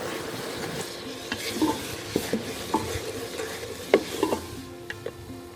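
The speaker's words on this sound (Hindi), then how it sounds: "अब इसी तेल में टमाटर का पेस्ट, नमक, हल्दी और मिर्चें शामिल करके मिक्स कर लेंगे।" Tomato paste, salt, turmeric and chillies are stirred into oil left from frying chicken for chicken aloo matar. A soft, steady sizzle runs under repeated scraping strokes of a spoon against the pan, up close.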